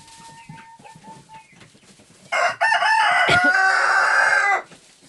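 Chickens cluck softly on a farm, then a rooster crows loudly and close by, a long ringing call lasting a couple of seconds before the flock settles back to quiet clucking.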